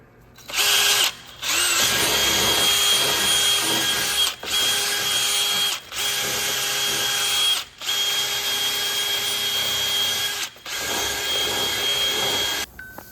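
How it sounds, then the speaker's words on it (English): A power drill with a wire cup brush whirring loudly in a series of long bursts on a car's front brake parts, each run lasting a couple of seconds with brief pauses between, close and abrasive. "I use one of these wire cup brushes, and that's just gonna get into the spots that I couldn't get"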